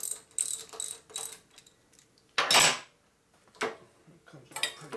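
A ratchet working the pinch bolt on a Harley Evo chopper in a garage, giving several short metallic clicking bursts separated by pauses, with one louder burst in the middle.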